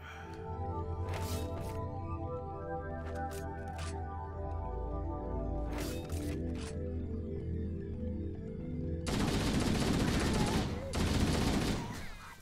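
Rapid bursts of gunfire from the Halo video game, with sharp repeated shots over steady background game sound that turns into denser, heavier fire near the end.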